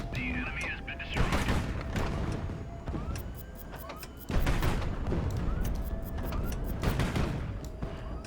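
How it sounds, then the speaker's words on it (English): Ship cannons firing proximity fuse ammunition in the naval strategy game Highfleet: loud, heavy booming volleys and rumbling blasts in rapid succession, with someone talking over the barrage. "I'm not making a great impression here with the prox fuse ammo."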